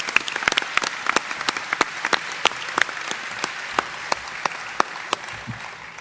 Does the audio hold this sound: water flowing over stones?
no